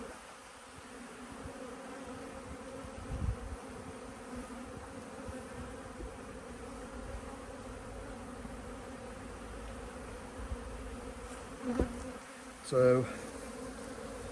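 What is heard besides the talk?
honeybees buzzing during hive inspection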